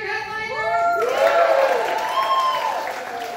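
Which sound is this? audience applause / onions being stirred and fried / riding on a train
audience applause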